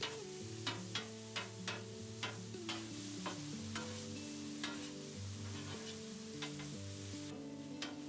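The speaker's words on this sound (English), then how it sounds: "What I like to do is just mix that into the meat just a little bit before I put on my salsa." Taco meat frying with spices in a pan, a soft sizzle under a run of regular spatula taps and scrapes, with steady background music throughout and no voices.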